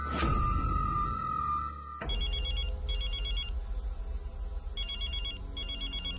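A telephone rings loudly in repeated electronic bursts, two pairs of rings with short gaps between them, after a sustained tone at the start.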